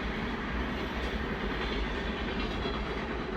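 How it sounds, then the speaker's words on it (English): A train passes nearby as a steady, loud rolling rumble with faint rhythmic clatter of railcars, continuous throughout with no voices. "Another train."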